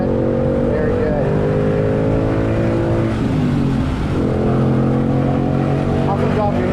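A Ford Mustang Mach 1 on track at Virginia International Raceway, its engine loud and close with rising and shifting harmonic tones as it accelerates out of a corner, with people talking over it.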